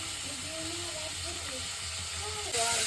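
Tomato, chana dal and mustard seeds frying in hot oil while a Gujarati masala dosa filling is made, with a soft continuous hiss and sizzle, faint stirring and a louder burst near the end.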